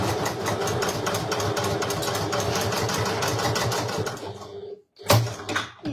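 A sewing machine stitches fabric into a tube, a fast steady mechanical whir with rapid needle ticks, stopping near the end before a couple of brief handling clicks.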